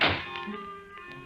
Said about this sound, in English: I got up to close it, but before I reached it, it shut itself firmly